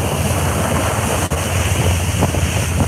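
Strong wind roars across a dive boat at sea off Chichijima in the Ogasawara islands, a loud, constant rush of buffeting air and surf with one brief dip in the middle.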